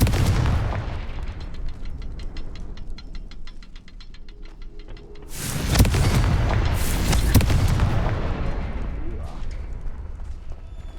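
Repeated Confringo fire spell blasts from the Hogwarts Legacy video game, loud booming bursts rising over a dense game soundscape with rhythmic clicking earlier, no talk.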